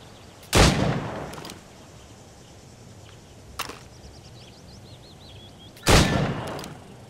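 A gun fires in the video game Assassin's Creed Rogue: two loud, close shots about five seconds apart with a softer crack between them, each leaving a short echoing tail.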